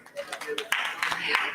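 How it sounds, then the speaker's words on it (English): Audience at an accountants' convention clapping for fresh graduates receiving shields on stage, a brief burst of scattered applause building up over about a second and a half, fairly faint and distant. "We need to clap for them because they're fresh grads"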